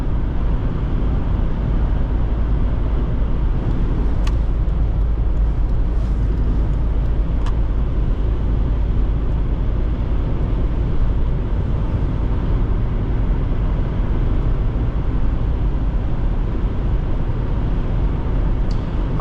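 A 2004 Mercedes-Benz ML500 pulls strongly along the road, its steady engine drone blended with dense road and wind rumble heard from inside the cabin, loud and unbroken throughout.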